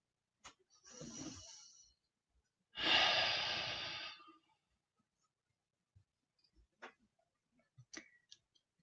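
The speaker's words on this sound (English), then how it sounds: "we're going to do a bit of just nice breathing" Slow, relaxed breathing during a shiatsu session, one long inhale followed by a fuller, louder exhale, close and quiet, then soft scattered clicks and rustles in a hushed room.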